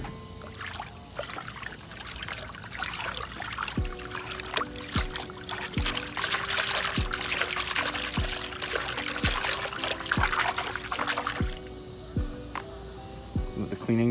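Clean water pours into an old, broken, cracked tub, a continuous close splashing trickle broken by several short percussive knocks, with music playing underneath throughout.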